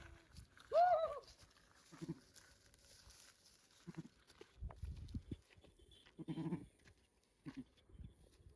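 Goats in a shepherd's herd, one clear nearby bleat followed by several fainter, shorter bleats and calls spaced irregularly, alongside soft shuffling movement in a quiet outdoor setting.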